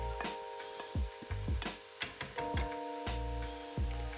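Diced vegetables, with onion and garlic, sweating in a pan for a Mediterranean vegetable soup, a soft steady sizzle with irregular clicks and scrapes from stirring, close and fairly quiet.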